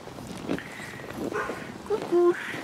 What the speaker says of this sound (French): Avant de partir, j'ai voulu retourner voir les chiens.